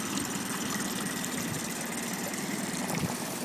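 A Tohatsu 9.8 outboard motor idles on a small boat, a steady mid-pitched engine drone with a faint knocking rhythm, close and even for a few seconds without talk.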